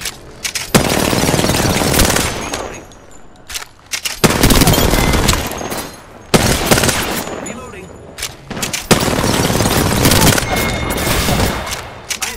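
Sustained automatic gunfire in the Apex Legends video game, loud bursts of fusillade continuing in long stretches with brief gaps between volleys, with game voice lines mixed in.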